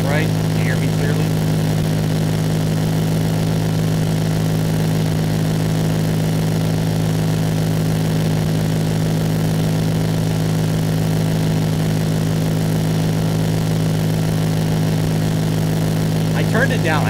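Cessna 172 engine from the X-Plane flight simulator game, a continuous steady propeller-engine drone holding an even pitch and loudness throughout, with no speech.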